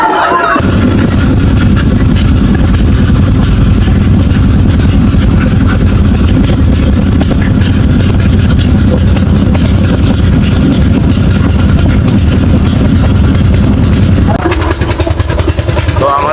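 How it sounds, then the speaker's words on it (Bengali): A boat engine drones steadily and loud as the boat pulls away from a river ghat toward a char, a continuous low rumble throughout with little change. "আমাদের নৌকা ফাইনালি ছাড়ছে"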